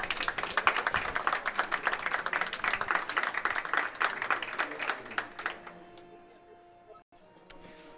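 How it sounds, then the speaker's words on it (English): Audience applause at a live speedrunning marathon event, dense steady clapping for about five seconds that thins out into scattered claps and fades. "Can we get a clap for Kinnan and his mighty finger?"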